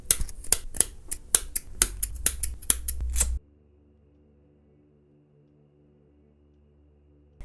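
Scissors snip leftover macrame thread on a handmade thread ring in a rapid series of sharp, close cuts lasting a few seconds, followed by near silence.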